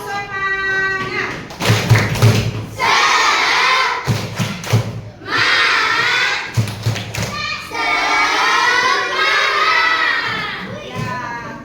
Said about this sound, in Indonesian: Sekali lagi semangat. Tepuk semangat.